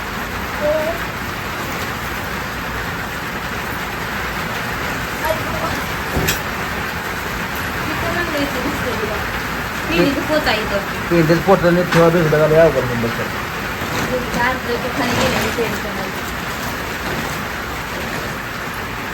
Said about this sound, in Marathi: मोठा वाजला पाऊस ग